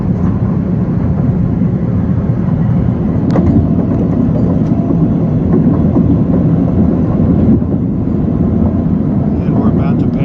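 An LIRR M9 electric train rushes past on the adjacent track near the Port Washington branch junction, a steady loud rumble and roar lasting throughout from inside a moving train, with voices faintly under the noise.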